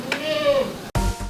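Goats on a milking stand bleat while being fed and milked, a drawn-out wavering cry close by, followed by shuffling and a second short call, with people speaking in the background.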